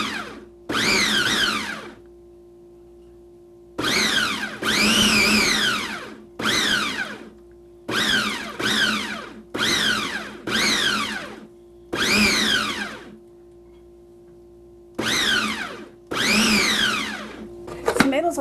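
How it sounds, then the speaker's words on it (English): A food processor pureeing tomatoes runs in repeated pulses of a few seconds each, a loud whirring motor that starts and stops about ten times with short quiet gaps between. "I'll food process it then, puree it"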